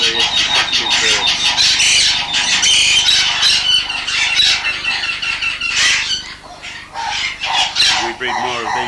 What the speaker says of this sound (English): There are some of this year's young rubrigenis macaws.